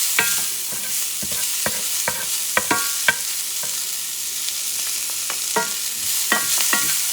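Onion and peppers fry in a hot pan for peppered shrimp noodles, a close, steady sizzle punctuated by quick, sharp scraping clicks as the spatula stirs them.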